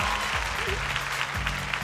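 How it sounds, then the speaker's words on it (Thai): Steady applause from a crowd at The Star 6 singing-contest concert, loud and continuous throughout, with a faint voice briefly underneath. "ขอเสียงปรบมือต้อนรับพี่โจ พี่ม้าพี่เพชรครับ"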